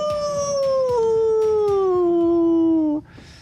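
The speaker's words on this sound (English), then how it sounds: "you hear her scream and howl" A dramatic scream-and-howl sound effect: one loud, sustained wail lasting about three seconds that slides steadily downward in pitch, then stops abruptly, leaving only faint background.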